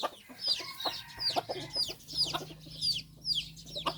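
A crossbred fighting rooster clucks in a quick repeated series close by, sharp rhythmic calls roughly every half second, with faint farmyard background.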